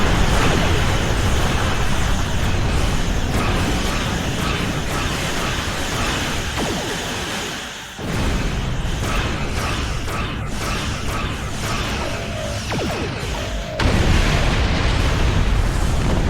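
A Hideki class starship bursts apart amid the constant roar of weapons fire and explosions in the space battle of Star Trek Online, a dense rumbling wash with a brief drop partway through and no voices.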